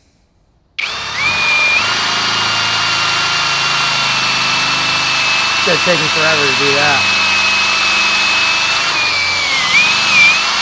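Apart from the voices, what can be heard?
drill with 25-inch bit boring through a 4x4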